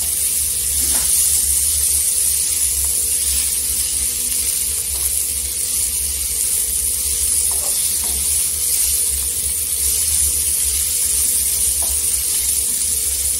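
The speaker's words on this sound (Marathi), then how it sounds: "इथे तेलावर परतून घेतलेली आहे भाजीला." Green bean pods frying in oil with spices give a loud, continuous hiss and sizzle that holds steady, with occasional soft stirring clicks mixed in.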